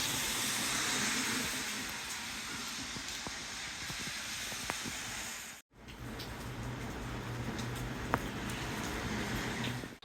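Ottawa city bus pulling up to a stop, steady engine rumble and hissing air brakes, a brief cutoff midway, then continued idling with a faint clank, heard from a bus shelter.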